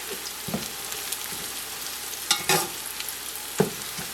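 Onion frying in oil with garam masala for mutton tahari, with a low steady sizzle under occasional stirring scrapes and a few sharper clinks in a quiet kitchen.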